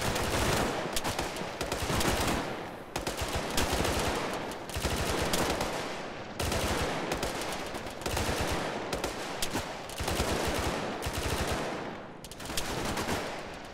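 Sustained bursts of automatic gunfire from an Arma 3 firefight, rattling volleys repeated in several long strings with brief gaps between them, loud and dense with no talk over them.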